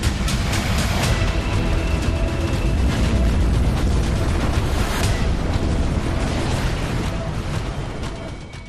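Missile and rocket explosions around Kyiv, Ukraine, heard as a continuous heavy rumbling roar with booming low-end bursts, loud and close, fading slightly toward the end.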